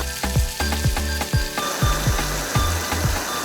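Battered skins frying in plenty of hot oil, a loud continuous sizzle with rhythmic clacking and scraping strokes repeating over it, no talk.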